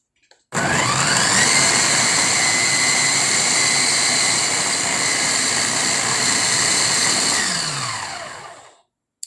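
Vitamix food processor motor spinning at full speed, a loud steady high whine with a faint start and a gradual wind-down at the end, no talk over it.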